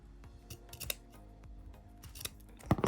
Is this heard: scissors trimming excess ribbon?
yes